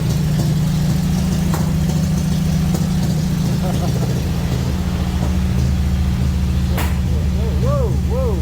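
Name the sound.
1954 Ford F-100 truck engine started and idling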